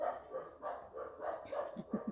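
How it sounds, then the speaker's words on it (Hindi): Dogs out on the road bark in a quick series of yips and barks, several in two seconds, heard at a moderate distance with no talking. "कुत्ते वगैरह की भी आ रही है आवाज़।"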